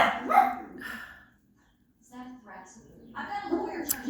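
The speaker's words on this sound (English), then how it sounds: "There's a dog barking on TV, so my dogs think it's real." Dog barking from a television set, with household dogs barking back in response; barks come in bursts near the start and again toward the end, mixed with some talk.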